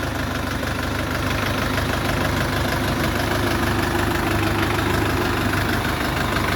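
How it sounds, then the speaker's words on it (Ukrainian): A 2024 Dongfeng 404 four-cylinder diesel tractor engine idles steadily up close, a low rumbling chug with a constant knocking rhythm and no voices. "4-циліндровий дизельний двигун"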